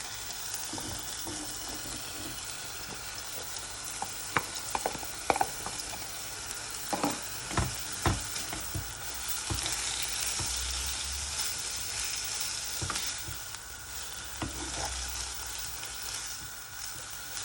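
Carrots and potato sizzle and fry steadily in a pan for a Nigerian meat pie filling, a continuous hiss broken by occasional sharp clicks and scrapes, close and fairly loud, with no one talking.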